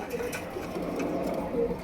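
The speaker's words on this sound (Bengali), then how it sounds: "কবুতরগুলো দেখাই, ডিঙ্গে বসে আছে, তারপর একটু ডিস্টার্ব করলাম" Silver-coloured, large-headed pigeons coo in a low, steady murmur after being disturbed on their perch, close by, with faint voices mixed in.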